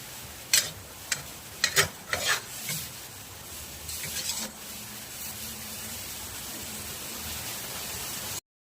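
Food frying in its own rendered fat in a home pan, a steady soft sizzle running throughout with a few sharper stirring scrapes near the start.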